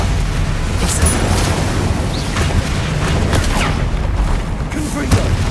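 Incendio fire spell cast in Hogwarts Legacy, a loud, roaring burst of flame amid rumbling booms and impacts that fill the whole stretch, with game combat noise throughout.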